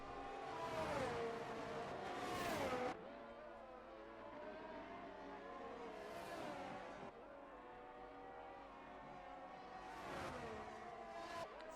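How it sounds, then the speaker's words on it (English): Ferrari-powered Alfa Romeo Formula 1 car in the F1 23 racing game, its engine screaming loud and high with rising and falling revs through gear changes, continuous across the lap with brief surges of revving. "I don't really like the Ferrari powered cars, so I don't like the sound of the engines."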